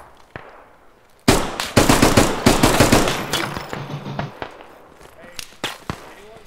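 Gunfire in the military shooter Squad, Canadian Armed Forces: sharp, loud bursts of rapid rifle and machine-gun shots crack out, then thin to scattered single shots and echoes, with brief voices in between.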